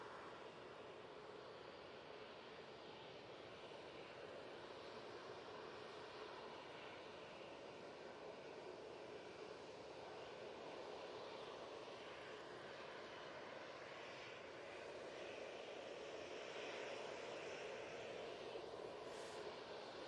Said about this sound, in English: We do have a heavy on final. It is the Aer Lingus A380.